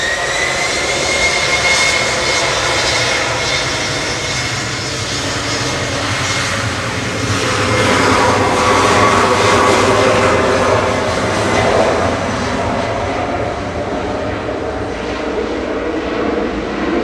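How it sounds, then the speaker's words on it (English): TAP Air Portugal Embraer 190 departing Manchester Airport for Lisbon, a loud sustained jet engine roar that swells and holds over the full stretch, heard from outside with no talk. "TAP departing to Portugal to Lisbon"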